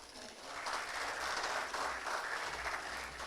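Audience applause at a university collaboration signing event, steady moderately quiet clapping from a hall full of people, continuing evenly without a clear peak.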